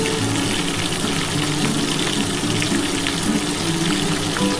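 Pieces of bhola fish fry in hot oil, a steady, dense, close sizzle that runs unbroken throughout with no voices.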